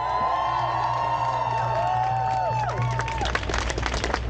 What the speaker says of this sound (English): I think ZSU deserves applause.